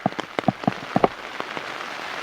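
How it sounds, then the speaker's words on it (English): Raindrops patter on big leaves and an umbrella in a wet outdoor camp, a series of sharp, close, irregular taps over a soft background hiss of falling rain. "especially if it starts raining a lot more"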